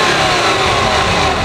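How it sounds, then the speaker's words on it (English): A five-cylinder car engine of about 150 horsepower revving loudly and steadily nearby, a dense throaty drone filling the whole moment with no other sounds. "that unusual and very distinctive noise all five-cylinder engines make"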